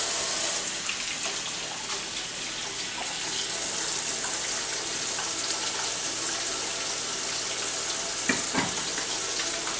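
Tap water runs steadily into a home kitchen sink as hands are rewashed before cooking dinner, a continuous broadband splash close by with no talk over it.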